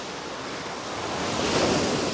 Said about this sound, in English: Listening to the waves.